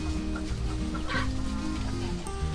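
Hens cluck close by on a farm in a busy, continuous chatter of short, overlapping calls, with no talking.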